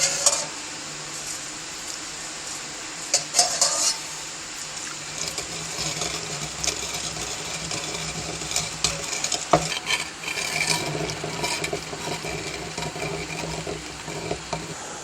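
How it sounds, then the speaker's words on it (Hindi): Milk is stirred bit by bit into a thick paste of dates, almonds, sugar and cardamom, giving a continuous wet swishing and scraping with occasional clinks of a spoon against the pot, with no talk. "अब इसके अंदर हम थोड़ा थोड़ा करके दूध डालते जाएंगे और हिलाते जाएंगे।"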